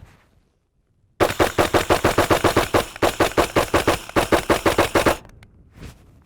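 Rapid string of about two dozen close, loud gunshots from a 9mm upper mounted on an AR rifle, fired evenly in quick succession for roughly four seconds before stopping, with no voices.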